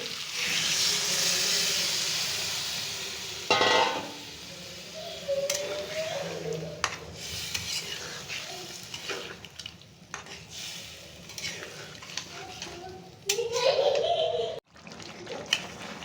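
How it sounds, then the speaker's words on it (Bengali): Meat with turmeric and red chili powder sizzles in a pan, a loud steady hiss at first, then quieter frying broken by scraping and clattering strokes as it is stirred. "বাবা সুন্দর করে নেড়ে নিচ্ছি।"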